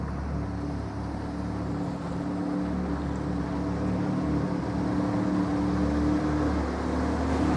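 The Lamborghini Huracan-based race car, fitted with a Honda engine and a carbon body, drives down the pit lane, giving a steady loud engine drone with a broad rumble and no break throughout.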